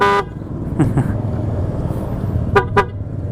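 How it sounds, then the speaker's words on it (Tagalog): Two short, loud blasts from an aftermarket PIAA horn on a Honda Click scooter in quick succession over a steady engine rumble, following an earlier brief honk at the start. "Loud horn"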